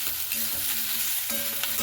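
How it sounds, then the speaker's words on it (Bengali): Vegetables seasoned with salt and turmeric are stirred in a hot pan, a steady close scrape and sizzle of frying with no voices. "পরে দেখুন খুব ভালো মতো করে নাড়াচাড়া করে নিচ্ছি"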